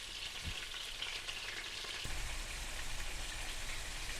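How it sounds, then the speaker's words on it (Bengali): Potol chicken kofta frying in hot oil, a dense crackling sizzle like light rain that holds steady, with a soft bump early on and a louder surge of spattering about halfway through as the pieces shift. "দেখছো এই যে ভালো করে ভেজে নিতেছি।"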